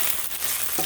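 Okra sautés in olive oil with salt and pepper, a brief, even hiss of frying with a couple of quick crackles, close and without talk.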